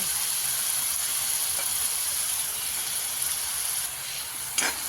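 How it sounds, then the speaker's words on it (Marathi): Masala with coconut frying in a pan for an egg curry, giving a steady close hiss and sizzle that holds throughout, with a faint scrape of stirring near the end. "बघा कसा मसाला आपला भाजायला लागलेला आहे"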